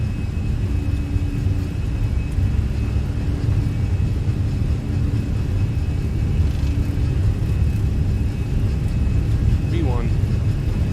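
A Fenix A320 airliner rolls down the runway for takeoff in Microsoft Flight Simulator, its steady engine roar and low rumble building continuously throughout, with voices talking over it.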